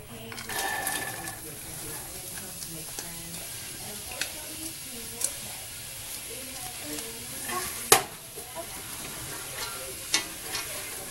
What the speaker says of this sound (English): So in goes my coconut oil. And I'm going to add my mirepoix.